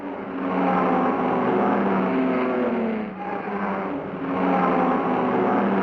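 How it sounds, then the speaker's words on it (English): A rare Fiat 8V sports racing car roars past at speed in a 1960s road race, its engine note swelling, dipping briefly, then rising again as it goes by, loud and close with no talk. "Third car through is the rare Fiat 8V of Sergio Mantia and Giovanni Napoli"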